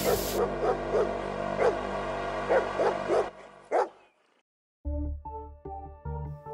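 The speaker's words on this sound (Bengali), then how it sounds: "কুকুরের ঘেউ ঘেউ শুনতে পাচ্ছি" A dog barks in a radio-drama scene set among nomads in the mountains, several sharp barks spaced out over a steady ambient bed, followed by a short musical sting.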